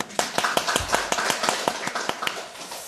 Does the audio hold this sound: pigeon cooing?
no